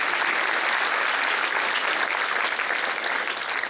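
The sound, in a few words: audience applause at lecture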